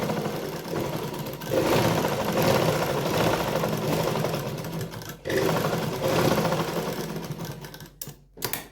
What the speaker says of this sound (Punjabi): ਹੁਣ ਇੱਥੇ ਜਿਹੜੀ ਤੁਸੀਂ ਮਸ਼ੀਨ ਚਲਾਉਣੀ ਬਹੁਤ ਫਾਸਟ ਨਹੀਂ ਚਲਾਉਣੀਗੀ